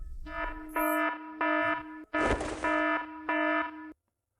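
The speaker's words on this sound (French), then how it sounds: "L'alarme du magasin sonne." A loud electronic shop alarm rings in six steady, evenly spaced bursts, each about half a second long, then stops abruptly.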